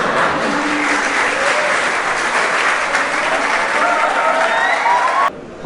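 An audience at the Fazaia inter-college debate competition breaks into loud, sustained applause, a dense, even roar of many hands clapping that stops abruptly at the end.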